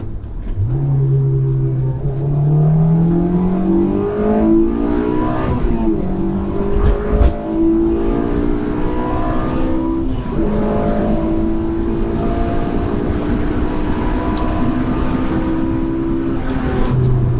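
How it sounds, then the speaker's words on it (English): A Honda S2000's high-revving engine climbs in pitch as it accelerates, dropping with each gear change before rising again, loud and continuous, heard from inside the car. "It's that high revving aspect of this engine"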